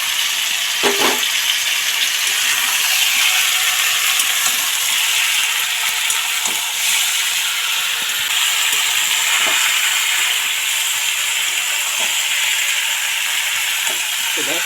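Pointed gourd, Malabar spinach and radish fry together in a pan, giving a loud, steady hiss and sizzle with occasional stirring clicks and no talk.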